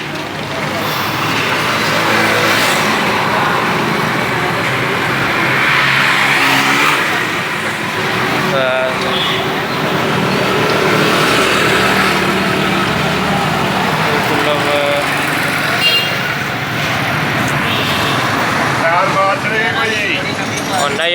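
A new auto rickshaw engine runs steadily and loud up close for the whole stretch, with people talking over the motor.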